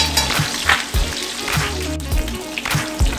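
Fish frying in hot oil for Jamaican escovitch fish, a steady close sizzle with repeated low thumps and scrapes as pieces are handled in the pan, no talk.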